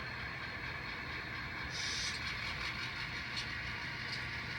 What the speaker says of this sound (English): Going to take the whole maintenance train down